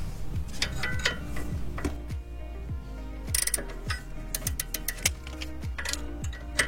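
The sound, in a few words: ratchet with 13 mm socket on Alfa Romeo brake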